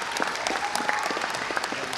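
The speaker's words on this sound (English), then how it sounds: "maybe we can clap for everybody" Brief applause at a scholars recognition day ceremony, a close crowd clapping with individual hand claps standing out in a quick, uneven patter.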